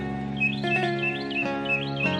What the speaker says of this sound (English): Be aware of birds flying back and forth, melodically singing their tunes.